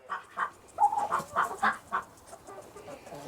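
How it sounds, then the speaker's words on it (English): A big turkey on a farm gives a run of short, throaty clucking calls, about eight bursts in quick uneven succession, fairly close and loud, fading to quieter murmurs at the end. "That's my big old bird. My turkey."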